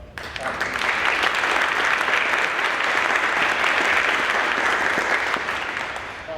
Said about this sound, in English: Round of applause for my man.